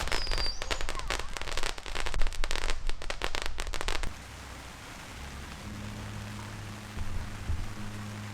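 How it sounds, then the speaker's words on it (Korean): Dense rapid crackling and popping of fireworks for about four seconds at a campground in Gusipo, then it cuts to quieter ambience with a low engine-like hum and faint voices. "엄청 많이 불꽃놀이 하나 보다."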